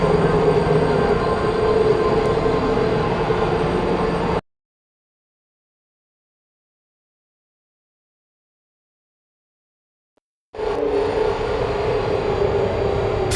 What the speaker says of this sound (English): The elevator, it wasn't going to my testing track, so I've rerouted the lift.